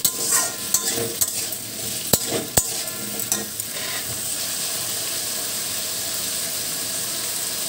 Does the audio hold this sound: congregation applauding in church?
no